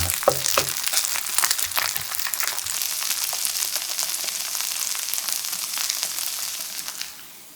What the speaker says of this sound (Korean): 기름이 부족하면 더하고 충분히 구워서 맛있는 색깔을